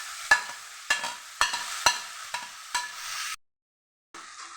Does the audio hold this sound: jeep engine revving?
no